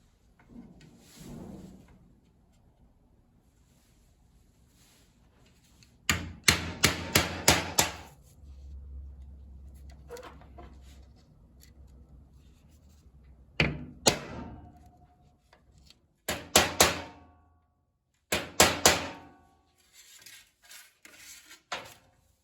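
A hammer works the edge of a bead-rolled sheet metal panel, striking in clustered bursts of sharp, ringing metallic blows separated by quiet pauses and lighter handling noises, all close and without talk.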